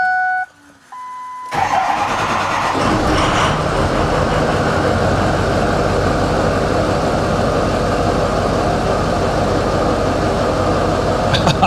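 Ford Super Duty 6.0 diesel engine, still very cold after a jump, cranks after a short electronic chime then catches and runs with a loud, rough, steady diesel clatter close to the microphone.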